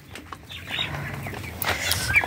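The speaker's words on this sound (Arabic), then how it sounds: "الفراخ الصغيرة منهم كانوا جعانين" Chickens on a farm, young birds among them, clucking and rustling close by in short bursts, with wing flaps and brighter calls building toward the end.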